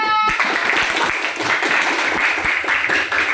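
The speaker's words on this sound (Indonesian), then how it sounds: "kalau senang kasihlah tepuk semangatnya" Students in a classroom give a tepuk semangat clapping cheer, a loud, dense burst of group clapping with a steady pulse that starts abruptly and continues without pause.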